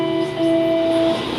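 Steady train-riding rumble from Life Is Strange: Before the Storm, a constant rail hum with two sustained tonal lines held for about a second, no voices over it.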